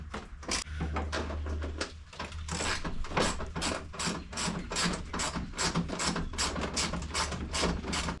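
Ratchet fitted with an 8mm socket removing bolts on a Jeep Gladiator roll-up tonneau cover, a steady run of quick close clicks at an even rhythm.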